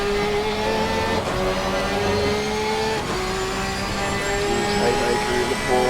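A Porsche race car at Watkins Glen in a racing video game drones steadily with sustained engine tones and faint tire and track noise, while a commentator talks over it throughout.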